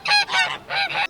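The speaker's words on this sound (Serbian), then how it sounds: "A kako se guska čuje?" A goose honks twice in quick succession, each call a pair of harsh, nasal blasts, loud and close with no other sound around it.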